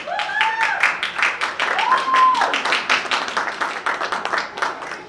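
Brisk, close-sounding applause from an audience at a dental school ceremony, dense rapid claps throughout, with a couple of rising whistle-like whoops over the clapping.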